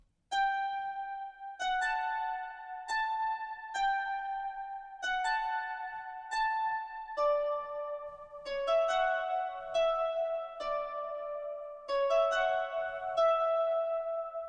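Dry harp sample in FL Studio with no effects, a plucked melody of clear separate notes that each ring and decay, played alone at a moderate, even pace.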